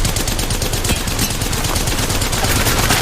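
Automatic gunfire in the mobile battle royale game Apex Legends Mobile rattles on continuously and loudly, a dense stream of rapid shots with no pause.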